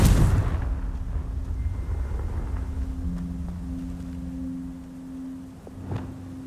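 A Confringo spell blast in Hogwarts Legacy lands as a loud, deep explosion at the very start, its low rumble trailing off over several seconds beneath faint tonal game ambience.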